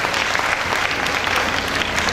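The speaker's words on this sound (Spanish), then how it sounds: "el aplauso fuerte para Xochitlán" Crowd applause at a town fair in Xochitlán de Vicente Suárez, a dense, steady burst of clapping from many hands, loud and close, with no talk over it.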